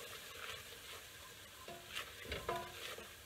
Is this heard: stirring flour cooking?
yes